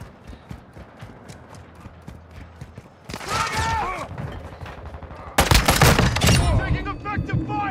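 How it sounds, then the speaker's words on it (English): Rapid video-game gunfire crackles in sharp bursts, sparse at first and then dense and loud in the second half of the clip. "Taking effective fire!"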